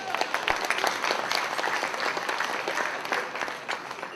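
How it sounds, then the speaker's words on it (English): Steady applause from an audience at an evening awards dinner, a dense, continuous clatter of many hands clapping throughout, fairly close and full. "So give yourself a round of applause."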